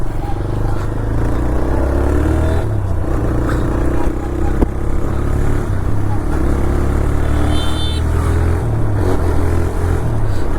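A TVS Raider 125 motorcycle on the move, its engine droning steadily and loud throughout amid rushing wind and road noise, without a break.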